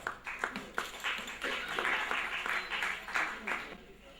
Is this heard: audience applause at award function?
yes